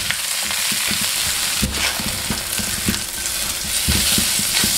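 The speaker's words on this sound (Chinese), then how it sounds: "炒香后倒入仔姜、红辣椒，把仔姜翻炒至断生。" Young ginger and red chili are stir-fried with garlic slices in hot oil, making a loud, close sizzle broken by frequent spatula scrapes and knocks against the wok, with no talking.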